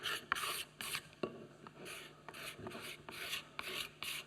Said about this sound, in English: Scrape off your pencil lines.